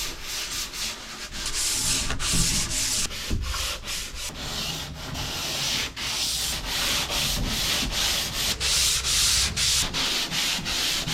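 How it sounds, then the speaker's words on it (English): Steady, rasping sandpaper scraping across primer on a wooden pirogue boat, continuous with rhythmic strokes and brief pauses, close up and fairly loud, no talking. "go over this whole boat with the sandpaper, sand the primer layer down"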